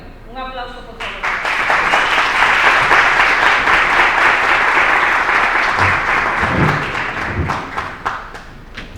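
Audience applause, a dense sustained clapping that swells after a short opening and carries on loudly for several seconds, with a few voices and thumps mixed in near the end.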